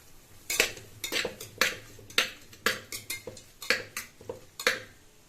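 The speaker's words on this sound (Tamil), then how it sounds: "வெங்காயம் வதங்கிட்டு இருக்கு பாருங்கள்" Metal utensil scraping and clanking in a pan as onions are stirred and sautéed for mushroom biryani, a steady series of sharp scrapes about twice per second, fairly close.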